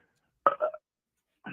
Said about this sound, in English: excuse me, I'm burping right now.